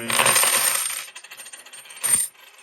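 Silver half dollar coins dropped onto a surface make a bright ringing clatter that fades out, then a second short metallic ring follows. No one speaks.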